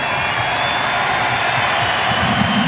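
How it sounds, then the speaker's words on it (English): A stadium crowd applauding and cheering at an A-League football match between Adelaide United and North Queensland, a loud, dense, continuous wash of clapping and crowd noise. "Listen to the applause."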